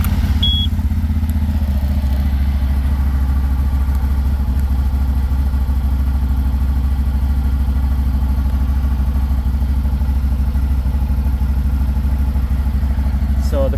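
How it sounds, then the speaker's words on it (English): A CF Moto 1000 Overland starts and settles into a steady, loud idle, its engine rumbling evenly and close by throughout. "Let's go ahead and start it up for you. Turn the key over."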